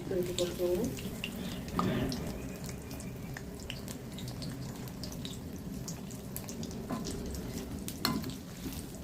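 Bread potato bondas fry in hot oil over a medium flame, giving a continuous dense sizzle with a few brief louder bursts and a faint voice in the background.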